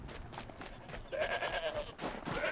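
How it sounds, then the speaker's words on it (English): A goat in the video game Horizon Zero Dawn gives a few wavering bleats in the middle and toward the end, mixed with game sounds and a voice. "That goat actually survived it?"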